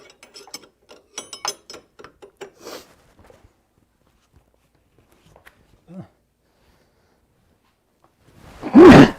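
A box-end wrench clicks rapidly, ratcheting on a leaf spring bolt up close, in quick runs of ticks followed by sparse clicks, and a man's loud grunt or remark comes at the end.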